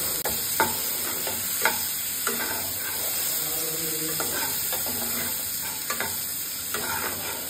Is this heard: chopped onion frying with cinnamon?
yes